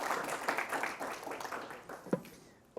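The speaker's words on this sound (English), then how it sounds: "Another round of applause for our 2 volunteers." A room of people applauds two volunteers at a tech talk, a moderate burst of clapping that tapers away, with a voice briefly heard near the end.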